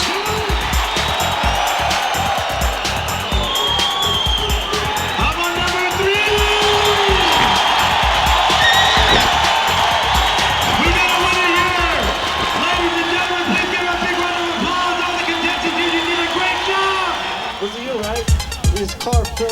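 An audience at a Las Vegas lowrider super show cheers and hollers to choose the hottest legs contest winner, a loud continuous crowd roar with whistles and an announcer talking over it throughout.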